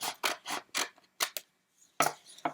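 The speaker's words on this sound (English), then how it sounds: "So you're going to cut all the way to the top" Scissors snipping through paper in a classroom craft lesson, a quick run of crisp close cuts, a brief pause, then a few more snips, with no talking.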